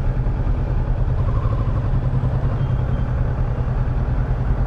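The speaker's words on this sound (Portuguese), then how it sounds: "Muita moto por aqui, viu?" Steady, loud engine rumble of motorcycles in night street traffic in Boa Viagem, Recife, a continuous low drone with clattering texture and no pauses.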